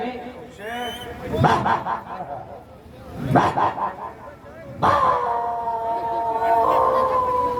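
A man imitates a dog howling in the cold, yelping and howling in several drawn-out cries that rise and waver, ending in a long sustained howl.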